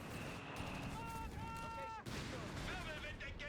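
Dense battle noise from Company of Heroes 3, a strategy game, with gunfire and Flak Panzer anti-aircraft shots hammering away without pause, heard under a caster talking continuously over the action.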